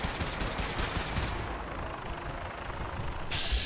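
Gunfire in Fallout 4 comes as a dense, continuous rattle of shots and impacts that thins out midway, followed by a short bright burst near the end, with no speech.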